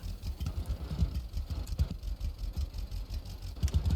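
A tractor pulls forward in Lumberjack's Dynasty, a low, pulsing engine chug with uneven throbbing rhythm, steady and moderately close throughout.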